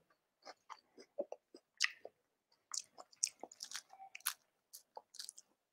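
Close, crisp crunching from someone biting and chewing fried zucchini flowers, a series of irregular snaps and crackles in near silence.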